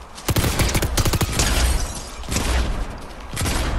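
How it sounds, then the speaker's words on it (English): Rapid bursts of gunfire from a Fortnite solos match, including a Maven auto shotgun, fire in quick clustered volleys, loud and close, with brief pauses between flurries. "I heard shooting"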